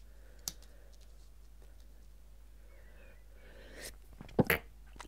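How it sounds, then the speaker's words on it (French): A single sharp sneeze bursts out near the end after a quiet stretch, preceded by a brief click and a short inhale. "Je vais éternuer, les amis."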